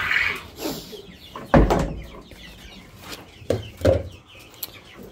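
Chickens and chicks cluck close by in scattered short bursts, mixed with a few knocks and bumps, with no one speaking.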